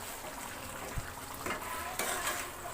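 Cashew chicken curry with thick gravy and no added water is stirred in a pan. A spoon scrapes and sloshes softly and unevenly, with a few small knocks against the pan under a quiet, faint sizzle.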